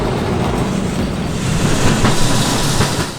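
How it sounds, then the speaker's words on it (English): Electric tram running on the Western Springs tramway at MOTAT during a Tram Live Day, heard as a steady rumble of wheels on rails with faint clicking over the track, growing slightly louder partway through, with no voices. "Today is a Tram Live Day with many trams running."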